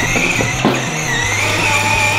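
A toy Captain America motorcycle runs at high speed, giving a steady, loud motor whir with a brief rattling bump partway through, continuous for about two seconds with no talking.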